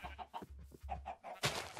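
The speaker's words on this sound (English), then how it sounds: "Yes, chicken, go over there." Minecraft chickens cluck in a quick run of short, repeated clucks, faint and without any talking over them.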